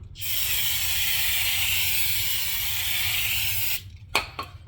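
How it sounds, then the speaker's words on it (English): Brake cleaner sprays from an aerosol can onto a Toyota Camry front brake rotor in a steady, loud hiss lasting several seconds, then a couple of short clicks and taps once it stops. "So I just got me some brake clean, like this. Just go around."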